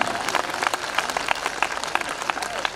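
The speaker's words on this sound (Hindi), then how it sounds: "तालियां कम हैं आपकी।" Audience applause at a Hindi comedy show, a steady patter of many hands clapping through the whole stretch, fairly loud and even with a faint crowd murmur.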